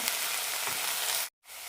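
Masala spices sizzle steadily in hot oil for a paneer kurma, a dense close frying hiss that cuts out briefly near the end and then resumes.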